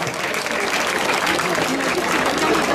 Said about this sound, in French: Je vais les applaudir